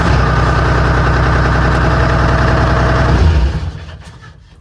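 Gama Goat amphibious six-wheel military vehicle engine running at a steady, rough idle, loud and close, then winding down and fading near the end.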